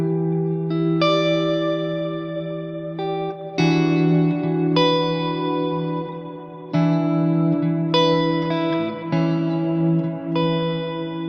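Electric guitar run through always-on delay and reverb pedals, sustained chords ringing out with echoing tails and washy ambience, loud and alone with no talking.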